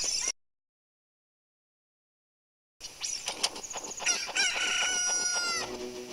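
A cucco crows after hatching in Zelda: Ocarina of Time. A brief sound cuts off into silence, then a loud chicken crow rises with clucking flourishes and repeated calls near the end.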